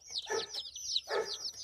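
Young chicks peep in quick, high-pitched chirping bursts, two short clusters close and fairly faint, with no talking.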